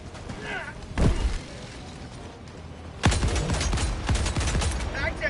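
Gunfire in Helldivers 2, two loud bursts of rapid automatic shots with heavy thumps and crackling impacts, separated by a quieter stretch, with a voice talking alongside.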